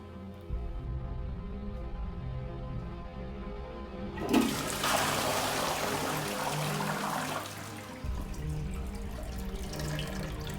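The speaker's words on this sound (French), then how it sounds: "combien de temps faut-il à l'eau des toilettes pour rester calme entièrement après avoir appuyé sur le bouton?" A toilet flushes once its button is pressed: a sudden loud rush of water that churns steadily for a few seconds, then drops back to a low trickle and refilling hum, with no voices over it.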